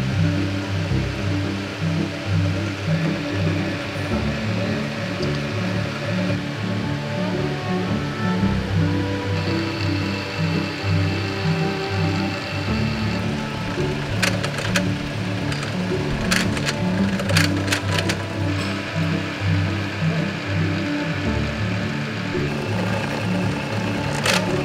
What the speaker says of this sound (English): Jesse's finished welding together the sprocket hub and now moves on to machining the surfaces.